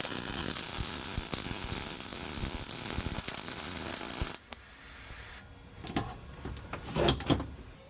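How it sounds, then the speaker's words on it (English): Welding a metal plate into a Jeep's center console: a steady, dense crackling hiss runs for about five seconds, then breaks off into scattered quieter clicks and taps. "Let's weld that in."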